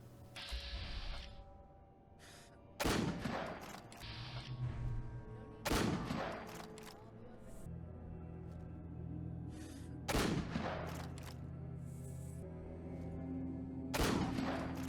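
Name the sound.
gunfire shooting raiders in Fallout 4 video game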